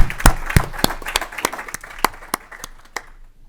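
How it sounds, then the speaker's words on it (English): Scattered clapping from a small group at a House agriculture committee hearing, a dozen or so sharp claps spaced unevenly and thinning out over a few seconds, close and fairly loud with no talk. "let's give them all another round of applause"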